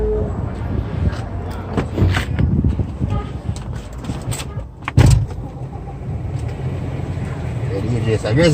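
A car rolls past on a street in Jamaica, its engine and tire noise swelling near the middle and fading, while people talk loudly nearby throughout.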